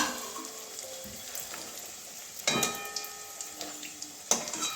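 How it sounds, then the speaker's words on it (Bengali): Papads fry lightly in hot oil over medium heat, a soft, steady sizzle with a few sharper crackles and bursts, close and fairly quiet. "মুড়ে রাখা পাঁপড়গুলো ভেজে নেব হালকা করে ভাজবো বেশি ভাজবো না"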